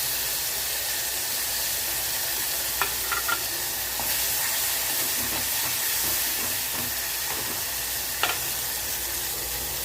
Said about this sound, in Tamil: வெங்காயம் ரோஸ் கலராக வர ஆரம்பிச்சிது தக்காளியை சேர்த்தேன்